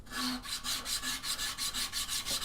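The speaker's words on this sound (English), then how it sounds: "I'm going to grab my bow sander." Bow sander rubbing back and forth on wood while shaping a turning saw, a close rhythmic rasping scrape repeating about five times a second, with no talk.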